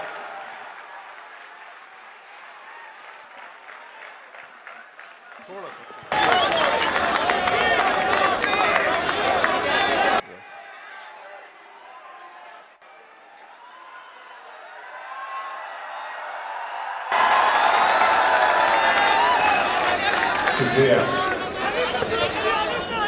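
At a mushaira in Kennedy Hall, Aligarh, the audience twice bursts into loud, dense applause for a poet, each burst lasting several seconds, with someone speaking through a PA in the quieter stretches between them.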